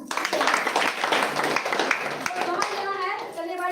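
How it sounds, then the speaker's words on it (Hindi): Loud applause breaks out from a gathered audience, a dense burst of clapping hands that builds quickly and then tapers as talking rises over it. "जोरदार ताली।"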